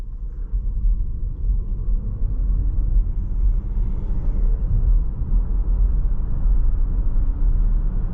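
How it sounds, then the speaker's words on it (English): Inside a 2023 Volvo XC60 T8 Recharge accelerating from rest in electric-only pure mode, a steady low road rumble and muted drivetrain hum build evenly, with no engine note and no talking. "Let's do a 0 to 60 in electric mode only, or also known as pure mode."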